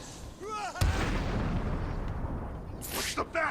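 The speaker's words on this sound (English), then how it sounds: "the Deadshot victim might be there already. We just haven't heard the gunshot." A gunshot in a Batman video game lands as a sharp crack and then a long rumbling boom and tail, against steady game ambience. A few brief bursts follow near the end.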